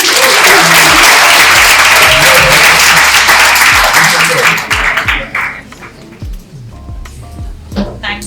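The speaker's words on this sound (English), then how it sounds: "So please join me in sending some love from London to Peshawar with some applause" A London audience at a community project completion celebration breaks into loud, sustained applause that fades out after about five seconds, followed by a speaker's voice over a few scattered claps.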